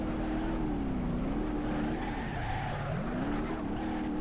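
A supercharged Mk1 Golf in BeamNG.drive revs hard and slides, its engine note rising and falling steadily while tires squeal through the skid, loud and continuous with no one talking.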